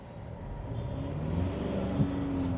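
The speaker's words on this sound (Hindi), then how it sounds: "अब आवाज़ सुनिएगा आप इंजन से" Ford Endeavour engine heard from inside the cabin while approaching a traffic light, a steady low muffled drone that rises slightly, with no talking.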